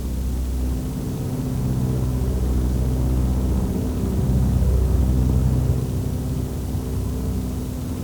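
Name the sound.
Heinkel 111 bomber aircraft engines droning in flight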